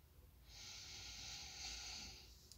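One long, deep breath taken during a guided meditation, a steady airy rush lasting about two seconds before fading, soft and close, with no talking.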